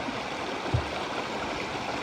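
A creek on the Green River in North Carolina flows as a steady, even rush of water, close and continuous with no voices.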